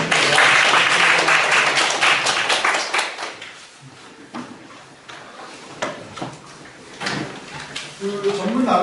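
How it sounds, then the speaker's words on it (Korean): Applause from a lecture audience in Korea at the close of a special talk, dense and loud at first, then thinning into scattered claps and room noise before a brief swell. "이제 이번에 박수 한번 하겠습니다"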